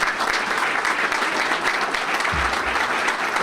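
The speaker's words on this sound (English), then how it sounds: "Please give the mayor a nice round of applause." An audience applauds the mayor at a State of the City event, a dense, steady round of clapping from a crowd that holds evenly across the whole clip with no voices over it.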